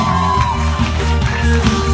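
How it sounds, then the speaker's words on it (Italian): An audience at a 2017 live concert whoops and cheers loudly over ongoing music, with shouts and yells rising above the band. "Facciamo un applauso per la sua opinione."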